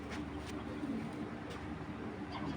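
An old-breed khaki pigeon coos softly in a loft, low murmuring calls faint against a steady background hiss with a couple of brief distant clicks.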